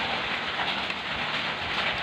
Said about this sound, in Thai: บรรยากาศฝนตกแล้วครับเนี่ยโอ้